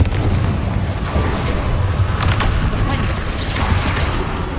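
A Confringo fire spell in Hogwarts Legacy sets off loud, booming blasts over a continuous rumble of battle noise, with the sharpest bursts coming partway through.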